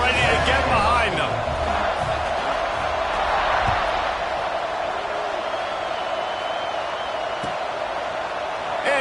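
Stadium crowd roaring steadily at a football kickoff, a broad continuous wash of cheering that fills the whole stretch, with a commentator talking over it.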